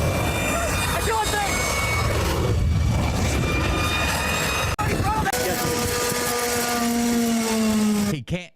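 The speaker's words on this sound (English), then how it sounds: "here they're test firing the engine" A small engine is test fired, roaring loudly and continuously with a raspy, fluctuating tone, then changing pitch and rising toward the end before abruptly stopping; people's voices are faintly mixed in.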